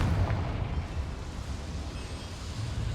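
A deep, rumbling blast from the Confringo blasting spell in Hogwarts Legacy, a low booming explosion that rolls on and slowly fades over a few seconds.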